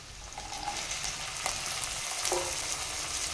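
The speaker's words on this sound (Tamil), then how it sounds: "5 மினிட்ஸ் மட்டும் நம்ம உருளைக்கிழங்கு நல்லா வதக்கி எடுத்துக்கலாம்" Diced potatoes sautéing in a pan with curry leaves, a steady soft sizzle with faint stirring scrapes, alone and with no talking.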